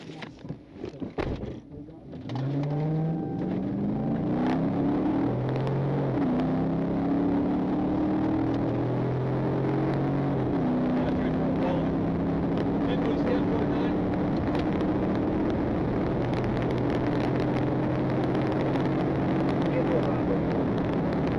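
A Nissan Murano accelerates hard during a police chase, its engine note climbing and shifting through rising steady tones, loud and sustained after a short scuffle at the start.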